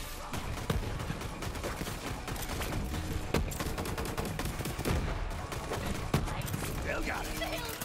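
Gunfire in Borderlands 3 rattles steadily under dense game sound, with sharper individual shots cutting through at intervals and a voice talking over the mix.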